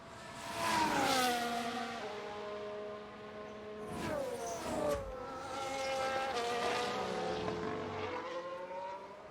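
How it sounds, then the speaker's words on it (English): Formula 1 cars in the F1 Manager 23 racing game whine past with rising and falling engine pitch, one sharp swooping pass midway, a rough-sounding drone from start to finish. "That car does sound a bit rough, though. Both of the cars sound a little bit rough."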